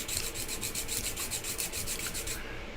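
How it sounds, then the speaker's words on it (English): A knife blade is sanded by hand on a flat surface in steady, rhythmic back-and-forth scraping strokes, close up with no talking, stopping just before the end. "I could adjust my finger pressure on each side of it to adjust whether I'm sanding on one side or the other"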